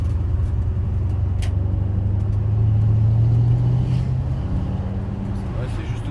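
A Porsche Cayenne 955 with stainless straight pipes in place of its silencers gives a steady, deep exhaust rumble that swells slightly midway, with voices faintly in the background.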